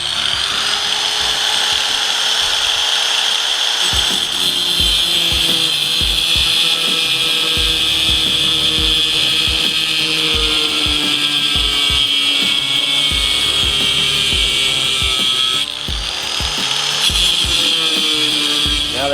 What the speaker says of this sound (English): Now that we got our piece of flat bar cut and angled to match up to the inside frame